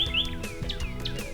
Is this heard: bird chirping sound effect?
yes